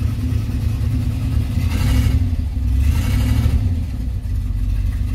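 An old car engine that needs a muffler fires up and runs, giving a loud, rough, steady rumble close by with two brief swells of revving.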